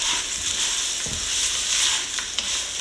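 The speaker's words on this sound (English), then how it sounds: "We're just going for a light browning on this sausage, nothing too intense" Sausage sizzles in a pot as it lightly browns for Dollar Tree gumbo, a continuous hissing fry with occasional stirring scrapes and soft pops.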